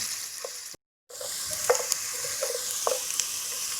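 Onions fry and soften in a pan for restaurant-style daal mash, a steady close sizzle broken by a brief silent gap, with several light spatula clinks and stirring scrapes.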